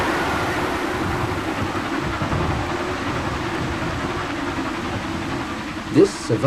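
An LMS Princess Royal Class Pacific steam locomotive climbs the last stretch of a steep gradient to a High Pennines summit in pouring rain, a steady, distant rumbling chug mixed with rain hiss, with a louder burst near the end.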